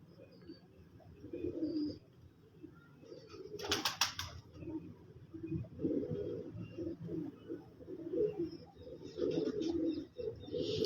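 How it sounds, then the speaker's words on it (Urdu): Salara breeder pigeons coo in low, throaty rolling phrases that repeat throughout, close by, with a brief flutter of wings and a few faint chirps in between. "سلارے کبوتر ماشاءاللہ بہت اعلیٰ کبوتر ہے"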